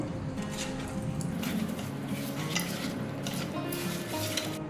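Yogurt and fried onions are stirred into chicken biryani, a spoon scraping and squelching through the thick mixture in a metal pot, with light sizzling underneath and no talk.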